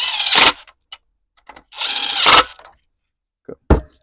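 A power tool spins off two 8mm nuts on a Honda generator, with two loud close whirring bursts and several short clicks and taps in between, no voices.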